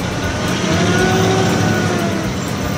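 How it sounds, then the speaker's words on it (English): A modified retired Hummer truck's engine drones loudly and steadily as it strains to wedge through a narrow gap between boulders on a rock trail, a sustained rumbling rev without talk. "I'm gonna try and wedge this giant truck through it."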